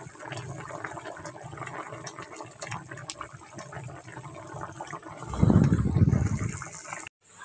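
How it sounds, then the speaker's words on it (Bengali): Tilapia fish pieces drop into spiced water in a cooking pan, giving a brief loud splash and bubbling gush near the end after steady low sizzling and simmering. "মশলা কষিয়ে জল দিয়ে মাছগুলো দিয়ে দিলাম"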